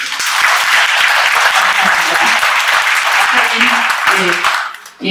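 An audience at a talk show applauds for CEO Oh Su-hwan, a dense, steady wash of many hands clapping close and loud for about five seconds, with voices faintly mixed in before it fades at the end.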